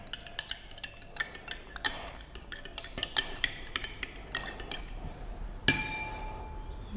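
Liquid detergent solution being stirred in a glass container, with rapid light clinks and taps of the stirrer against the glass, ending in a sharper ringing knock.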